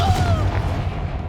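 In Hogwarts Legacy, a Confringo spell bursts with a deep, booming blast, followed by a quick rumbling decay, with a brief rising magical whoosh over it.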